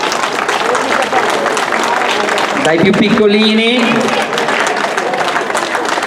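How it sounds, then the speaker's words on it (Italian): A crowd at a gymnastics exhibition applauds continuously as young athletes enter, dense clapping under a brief announcer's voice over a loudspeaker. "Facciamo entrare tutti gli atleti con un grande applauso."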